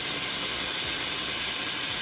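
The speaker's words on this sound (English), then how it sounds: "Steam will discharge and go out." Steam hisses steadily from a vintage Gaggia Orione espresso machine, a continuous broadband rush that holds at a constant level for two seconds with no voices.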